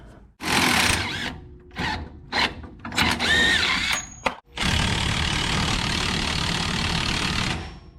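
Disconnecting the shock absorber on a 1987-96 Ford F-150 brings several short bursts of a power tool, then a long sustained whirring run from about 4.5 seconds, loud and close with no talk.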